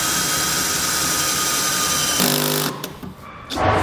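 A power drill with a 1/2 inch bit drills through a truck bed channel, a loud steady whine that cuts off near the end, followed by a short rough burst.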